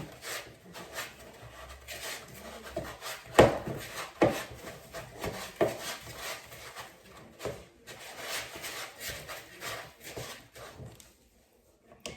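Soft butter and brown sugar are worked together with a spatula in a bowl, making irregular scraping and rubbing strokes with a few sharper knocks, fairly close and quiet, with no talking.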